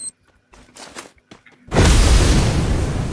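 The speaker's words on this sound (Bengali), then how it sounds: "এবং আমি এখানে গ্রেনেড থ্রো করি।" A grenade detonates with a loud, deep, rumbling boom in a shooter video game, preceded by brief clicks and rustling handling sounds before the sustained blast.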